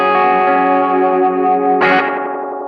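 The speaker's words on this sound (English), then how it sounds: "I've got the delay time set really fast, and then the repeats set pretty much right at the point where it starts to self-oscillate" Ibanez DE7 delay pedal on a guitar, its fast delay repeats held just short of self-oscillation to make a sustained, ringing wash of tones that slowly fades, broken by one bright new strum near the end.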